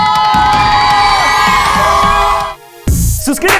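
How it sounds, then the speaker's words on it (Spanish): A studio audience cheering and whooping loudly for Santi under bright overlapping musical tones; the crowd noise and music drop off abruptly near the end, then a brief burst of voices returns. "Ya nos vamos a pedir un aplauso para Santi"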